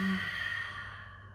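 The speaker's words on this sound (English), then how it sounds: "Open your mouth and exhale." A single long exhale pushed out through an open mouth, a breathy sigh during a yoga session that starts with a brief voiced edge and trails off softly over about a second.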